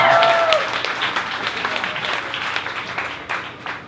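Audience at a live poetry reading breaks into clapping that gradually tapers off, with a brief voice at the start.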